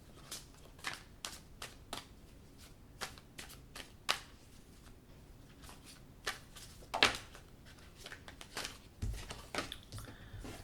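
A deck of tarot cards is shuffled at close range, with soft irregular riffles and snaps over a quiet background.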